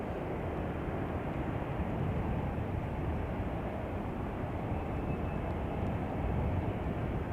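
A passenger airplane arriving at Chicago O'Hare on a flight from Austin, Texas gives a steady, low, rumbling engine roar from some distance, unchanging throughout with no voices.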